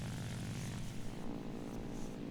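Propeller aircraft engine in War Thunder, a steady, loud droning roar with a dense low rumble and no pauses or talking.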